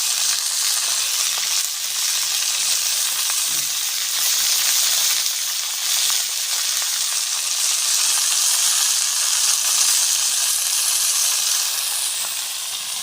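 Malabar spinach stems and a little potato fry in a pan over a clay stove, giving a bright, continuous sizzle and hiss with occasional stirring scrapes, close and steady with no talking.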